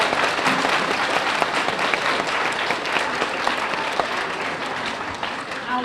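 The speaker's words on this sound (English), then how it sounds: "Let's give him one more great big round of applause." A school assembly audience at a junior high Black History Month celebration gives sustained applause, a dense continuous wash of many hands clapping at steady loudness, with voices mixed in.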